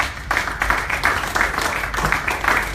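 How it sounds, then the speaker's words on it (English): Audience clapping at a business presentation, a short burst of applause from a room of people, steady and fairly close. "Big round of applause for all of them."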